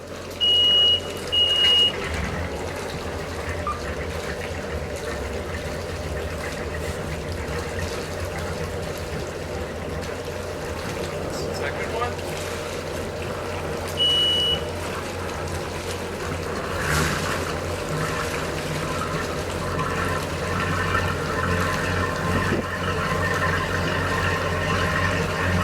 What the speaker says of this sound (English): Both of them started perfectly, no smoke.